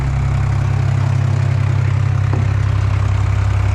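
An Oliver Styled 99 four-speed gas tractor engine rumbles low and steady at close range, a continuous idle-like drone throughout.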